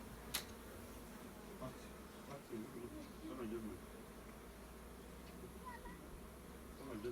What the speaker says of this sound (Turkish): Arı geliyor arkan sıra arı.